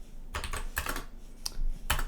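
Fingers tap out a short burst of keystrokes on a computer keyboard, a few quick close clicks in uneven clusters with brief pauses between them, heard alone without speech.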